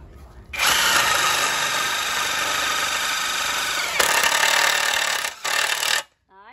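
A Hitachi impact wrench runs in a loud, continuous mechanical whir for about five seconds, with a brief dip and a short final burst before it stops.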